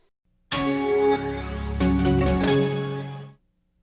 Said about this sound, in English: So a very important sound logo is the Intel sound logo.